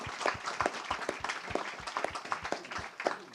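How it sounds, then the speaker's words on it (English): Audience at a literary talk gives a round of applause, a dense, steady patter of many hands clapping throughout, moderately close and sustained. "A round of applause, please, for all the good staff here."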